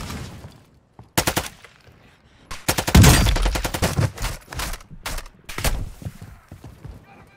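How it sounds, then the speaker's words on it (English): Dense gunfire from a Call of Duty DMZ firefight on Ashika Island: rapid bursts and repeated shots crackle close and loud throughout, with heavy overlapping volleys in the middle and no clear talking. "Taking effective fire."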